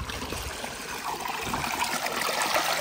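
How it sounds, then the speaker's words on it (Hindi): Hot spring water flows out on its own without any pump at a historical town in Attock, Pakistan, a steady close trickling and streaming wash that stays even throughout with no voices. "बगैर किसी मोटर तो पानी निकल रहा है।"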